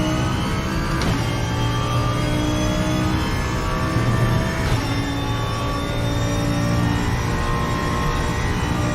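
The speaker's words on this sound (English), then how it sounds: "The Audi does indeed sound awesome, guys." An Audi race car engine in the RaceRoom sim during an endurance race at the Nurburgring, with sustained high-revving tones that climb and shift through gear changes, continuous and close.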